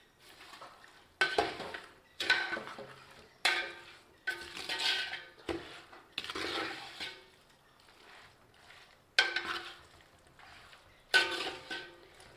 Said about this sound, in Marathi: आणि आता हे सगळं आपण एकत्र छान मिक्स करून घेऊया.